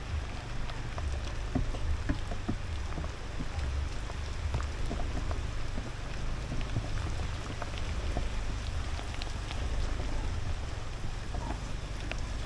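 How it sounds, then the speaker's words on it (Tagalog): Steady heavy rain patters on a surface in Cainta, Rizal, Philippines, with scattered distinct drops over a low continuous rumble, fairly quiet and without voices. "Grabe lakas ng ulan ngayon."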